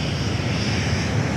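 A Velocity 628 airliner roars past as a steady broadband jet rumble, continuous and fairly loud with no break, no voices.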